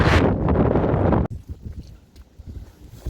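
A heavy blast of wind buffets the microphone with a loud rumble, then cuts off abruptly, leaving quieter, fluttering wind noise.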